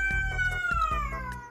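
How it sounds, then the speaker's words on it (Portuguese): A single drawn-out cat yowl, loud and close, sliding slowly downward in pitch over about a second and a half with no voices around it. "Vocês viram o grito que o gato deu?"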